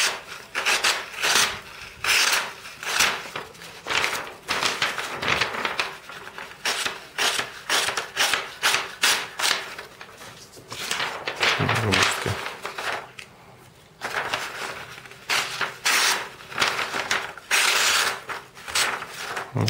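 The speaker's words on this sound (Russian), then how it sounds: "Заточка." A Leatherman Juice CS4 blade is sharpened in rapid back-and-forth strokes, a close rasping scrape repeating rhythmically for about twenty seconds with a brief pause midway.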